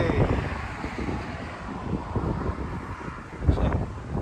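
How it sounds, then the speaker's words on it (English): Steady wind buffeting a microphone, a broad rumbling roar that swells and gusts throughout, with a sharper thump near the end. "Man, it's windy. The tripod's blowing back and forth."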